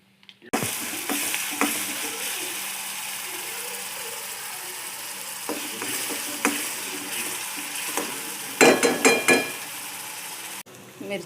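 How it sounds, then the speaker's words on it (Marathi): Green chilli, garlic and coriander paste fries with cumin and mustard seeds in hot oil in a kadhai, making a loud continuous sizzle with scraping stirs and a burst of crackling. The sound cuts off abruptly at the end. "आपण फोडणी देऊया"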